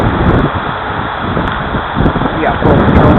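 Heavy wind buffets the microphone during an outdoor flight of a Super Cub RC plane, a loud, steady roar with gusty swells that continues throughout.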